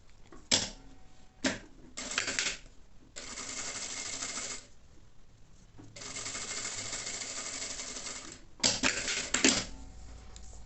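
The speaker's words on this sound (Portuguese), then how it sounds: "vou passar uma costura em pé de máquina aqui" A sewing machine stitching a strip of bias tape, running in several bursts of steady mechanical whirring with short pauses between, close and clear.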